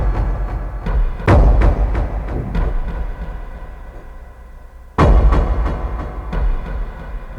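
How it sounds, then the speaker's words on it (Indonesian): A door bangs shut indoors with two heavy, close thuds a few seconds apart, followed by smaller knocks and rattles in a quiet room. "Ada suara pintu guys"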